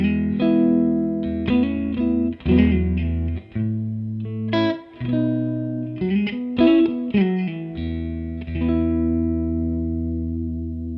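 A clean, Fender-style electric guitar plays through a Baroni AFK150 150-watt pedalboard amp with the mids scooped and the tone slightly darkened. Sustained chords and single notes ring out alone, close and fairly loud, with a shimmering, effected sheen.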